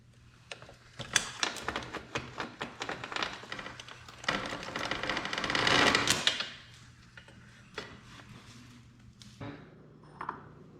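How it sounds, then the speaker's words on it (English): A drive chain being pulled off a 2009 Kawasaki ZX6R during a sprocket change, with close, rapid metallic clicking and rattling of links in bursts, swelling into a denser rattle midway before trailing off into scattered clanks. "Let's go ahead and pull the chain off."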